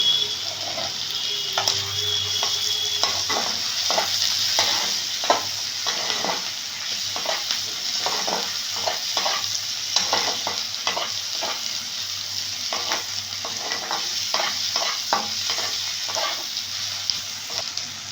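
Shutki (dried fish) frying in a pan: a continuous sizzle with repeated scraping strokes of a spatula stirring it, close up and steady, with no voices.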